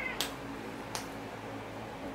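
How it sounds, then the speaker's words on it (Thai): A stray cat taken in from an office gives two brief meows, faint against a steady background hum. "เป็นแมวจรจัดที่สำนักงาน"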